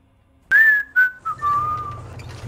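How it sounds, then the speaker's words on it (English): A short whistled tune of a few sliding notes, close and clear, followed by a faint low rumble underneath. "That was whistling"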